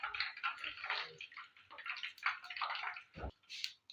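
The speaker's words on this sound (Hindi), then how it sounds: "अब हम इसको पानी में डालेंगे" Chicken pieces for a zinger burger are lowered into water, making close, irregular splashes and light sloshing in bursts, with one sharp knock near the end.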